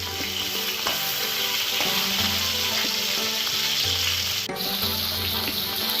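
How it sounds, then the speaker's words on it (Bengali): Steady, close sizzling of fish frying in hot oil, a dense crackle running the whole time with no voices. "মাছগুলো আমার ভাজা হয়ে গেছে"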